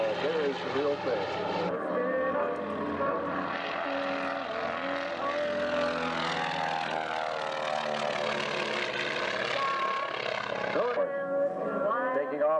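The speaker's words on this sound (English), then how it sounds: "Taking off in the German T6." A German-marked North American T-6 warbird takes off at a 1997 airshow in Frederick, Maryland, its radial engine and propeller making a steady, loud drone that fills the clip, with a crowd's voices under it.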